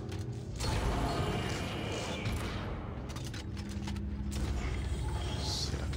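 Creaking ship hull in the video game Dead Space 3, a steady dense mechanical groaning and grinding that fills the whole stretch at even loudness, with scattered low knocks and no one speaking.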